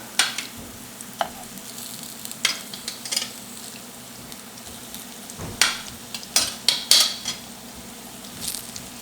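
Ripe plantain slices shallow-fry in ghee in a pan, giving a close, steady sizzle broken by clusters of sharp metallic clinks and scrapes from a utensil turning the pieces, with no talking.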